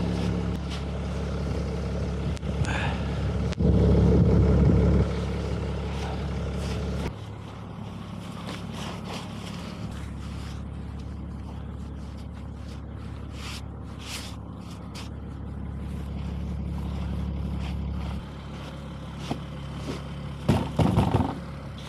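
Wheel loader with a tilt hitch blowing snow at a sunny Swedish ski resort, a steady loud engine drone and fan roar with whooshing bursts and a few clunks.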